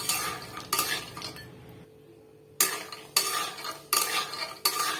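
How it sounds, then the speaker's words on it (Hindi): Almonds frying in a little ghee while being stirred, loud bursts of metal spoon scraping and rattling against the pan come in a repeating rhythm, broken by a short near-silent gap. "आधा बादाम इसमें तल रहे हैं"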